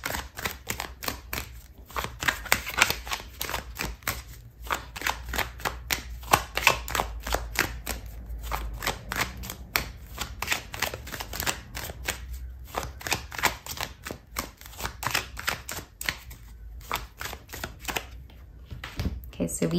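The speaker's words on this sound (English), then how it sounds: "I'm going to pull out another card for you" Tarot cards are shuffled, handled and drawn at close range, giving dense, rapid papery flicks and soft slaps that continue throughout, with a person speaking over them.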